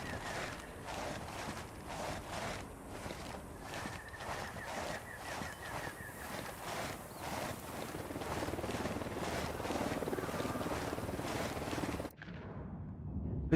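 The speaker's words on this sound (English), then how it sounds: "It's the helicopter." Helicopter in the video game Ghost Recon Wildlands, a steady rotor chop with rapid rhythmic thumping and engine whine holding throughout at moderate loudness, then cutting off abruptly near the end.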